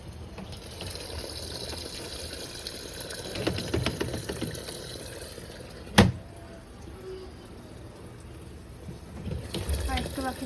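Water running steadily into a container at home, a continuous close splashing and filling rush under a sharp knock midway, with a person talking faintly in the background.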